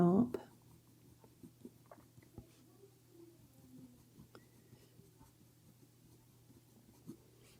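A colour pencil draws a reindeer antler on paper, giving faint, scratchy strokes and light tapping throughout under quiet speech, after a short loud bump at the start.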